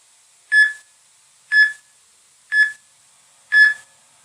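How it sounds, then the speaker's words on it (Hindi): An alarm beeps four times in an even rhythm about a second apart, each a short, clear electronic tone standing alone against near silence. "अलार्म बज गई।"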